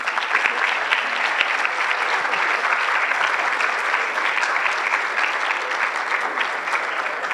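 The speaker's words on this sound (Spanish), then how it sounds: "Un aplauso, por favor." Sustained audience applause at a university humanities fair in Spanish-speaking Mexico, a dense even roar of clapping hands filling the room steadily from start to finish without pause.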